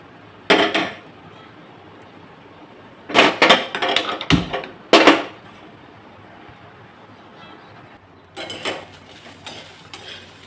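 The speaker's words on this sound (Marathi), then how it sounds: "आता ही मटकी मी भाजून घेणार आहे" Sprouted moth beans (matki) are dry-roasted in a pan, with sharp bursts of clattering and scraping from stirring separated by quiet pauses.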